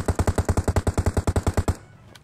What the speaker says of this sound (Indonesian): Kalau kalian dengar tembakan dari arah mana arah?